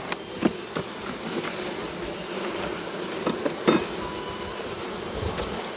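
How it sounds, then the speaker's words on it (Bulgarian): Honey bees hum steadily inside an opened beehive behind the division board among the frames. A continuous close drone is broken by a few sharp knocks and clicks, with no talk. "пчели след приградната дъска"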